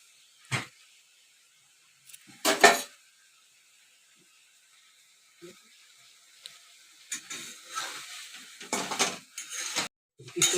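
A cooking pot being covered with its lid after mustard oil is added, a few separate metallic clinks and scrapes with quiet gaps, then a busier cluster of clattering near the end.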